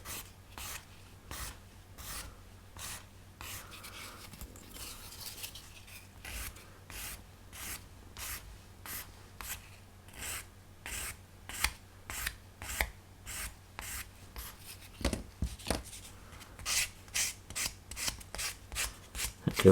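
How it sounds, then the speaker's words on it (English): A sprue gate on a 22-inch Eagle 1 plastic model kit from Space 1999 is sanded by hand. Steady, close, rhythmic rasping strokes keep going for about twenty seconds and get louder and quicker near the end, with no voices. "And we've got another sprue gate here, so there I need to sand."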